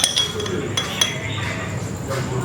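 A spoonful of chia seeds goes into a glass, giving a few light, close clinks of spoon against glass over a steady background hum.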